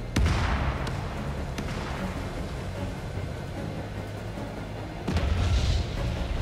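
Missile explosions in an F/A-18F Super Hornet flight combat game, with a deep booming blast at the start and another near the end over a constant low roar of engine noise.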